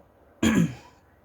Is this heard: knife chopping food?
no